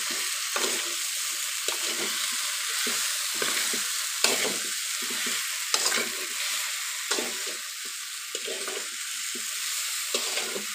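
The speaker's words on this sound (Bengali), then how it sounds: "চালতাটাকে ভালো করে ভেজে নেব" Elephant apple (chalta) pieces fry with a cup of sugar in a pan, a steady close sizzle broken by regular scraping stirs of a spatula, with no talking.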